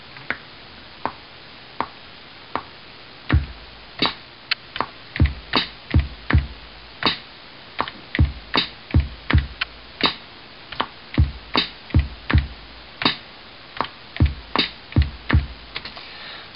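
Sharp, dry percussive hits sound alone in a repeating drum pattern played on a keyboard in GarageBand, clicky and close, some strikes louder than others.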